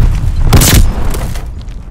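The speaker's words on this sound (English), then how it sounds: "Grenade." A grenade detonates in Call of Duty: Vanguard multiplayer, a single loud, close boom with a burst of debris that rolls off into a fading rumble over nearly two seconds.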